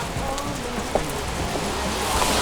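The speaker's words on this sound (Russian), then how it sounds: "Дождик, я иду по лужам." Rain falls on a city street, a steady, broad hiss with scattered drop taps and a faint low background rumble, continuous and close.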